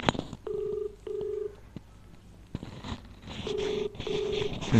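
A telephone call being dialed: a few keypad tones, then two pairs of ringback tones, then two more, with no answer and faint room noise between them.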